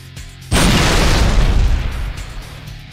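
A plasma grenade explodes in the video game Halo: Reach, a single sudden heavy boom that rumbles for about a second and a half before fading.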